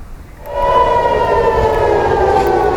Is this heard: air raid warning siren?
yes